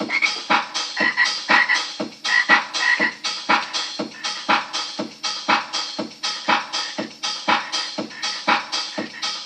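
A frog that has come indoors out of cold, icy weather croaks loudly and close up in a fast, regular series of rasping calls repeating roughly twice a second, with no voices.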